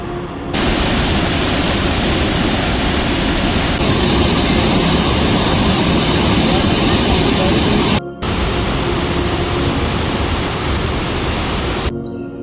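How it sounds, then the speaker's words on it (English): Sunwapta Falls, a waterfall in Jasper National Park, roars steadily as a loud, broadband rush of pouring water, constant and close, with a brief break partway through. "We ended our trip off at Sunwafter Falls, another beautiful waterfall in Jasper National Park."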